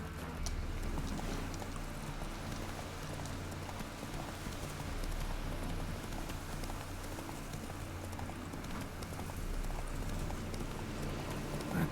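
Horse hooves in The Witcher 3 while riding, a steady soft clopping gait buried under a dense, constant rumble and wash of ambient noise, with no clear voices.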